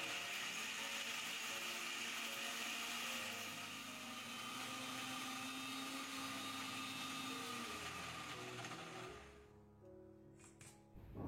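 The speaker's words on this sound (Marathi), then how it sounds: "लगेच यावर झाकण लावूयात आणि मिक्सरला फिरवून घेऊयात" A kitchen mixer grinder whirs steadily as it grinds quartered tomato with chole masala and no added water, a loud continuous motor drone that slows and stops near the end.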